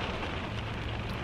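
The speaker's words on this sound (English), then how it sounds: "It is raining." Rain pours steadily outdoors on a nasty day, a dense, even hiss of drops hitting surfaces close by, with no voices.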